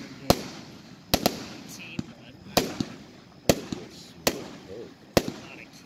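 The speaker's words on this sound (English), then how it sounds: "item number 7, Cutting Edges Coil, an 18-1 pack, 16 shot, 200 gram cake" A Cutting Edge Coil 16-shot 200-gram firework cake fires sharp, loud bursts roughly every second, with crackling trails and echoes between the shots and faint background voices.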